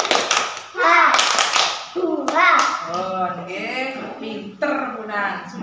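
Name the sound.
classroom children clapping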